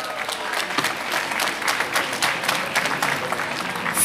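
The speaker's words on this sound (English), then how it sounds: "Let's give a round of applause to all the diplomats and the international dignitaries here tonight." Warm applause from an evening audience at a mayoral Asian-Pacific Heritage celebration, a sustained dense burst of clapping filling the room for several seconds.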